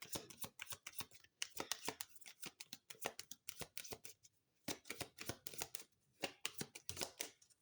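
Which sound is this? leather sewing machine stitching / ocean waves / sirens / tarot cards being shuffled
tarot cards being shuffled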